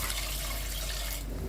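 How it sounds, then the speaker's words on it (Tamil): Water pours steadily into a pot of mutton soup being cooked, a continuous close splashing fill with no talking. "அதுக்கப்புறமா அந்த சூப்புக்கு தேவையான அளவு தண்ணி சேர்த்துக்கலாம்"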